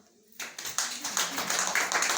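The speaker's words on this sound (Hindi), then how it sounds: "एक बार इसके लिए ताली बजाओ" An audience of students claps together after a classroom answer, a short burst of scattered hand claps starting abruptly and continuing in quick, uneven patters at moderate distance.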